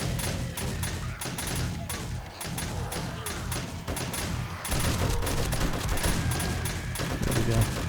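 Auto turret guns in 7 Days to Die firing continuous rapid bursts, a dense, loud rattle of gunfire that runs almost without pause and grows slightly heavier in the second half.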